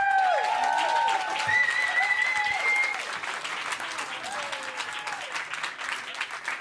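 At the Open Up Award 2018 ceremony, an audience claps warmly while bright whoops and whistle-like cheers rise over the clapping, the applause loud at first and then easing to a softer, scattered patter.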